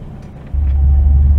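A Skoda Estelle 120L with its 1.2-litre rear engine drives along a road, a low steady rumble rising after a quiet moment and continuing as a muffled, even cabin drone.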